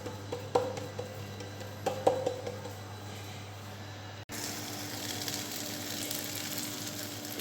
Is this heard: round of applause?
no